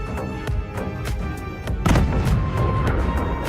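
Bombs dropped by a drone explode on a building holding enemy soldiers: heavy, close booms and thuds in a dense, continuous roar, with a sharp new blast near the two-second mark.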